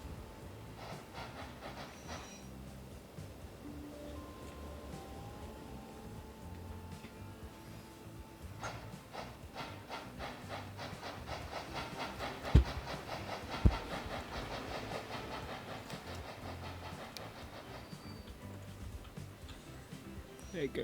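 Trains in the game Transport Fever 2 roll along a section of track with rhythmic clicking wheel beats and a low rumble, building toward the middle, with a couple of sharp knocks.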